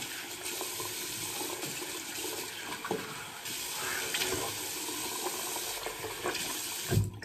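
Hot water runs steadily from a bathroom tap during a traditional wet shave with brush and soap, a continuous splashing hiss that swells and eases slightly over several seconds, with no voices.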